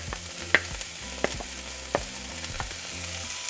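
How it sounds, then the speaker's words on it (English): Sliced onion and chopped jalapenos sauté in hot oil in a skillet, a steady sizzle with a few sharp stirring clinks spaced about a second apart, close up and with no voices. "We're going to saute for a couple minutes"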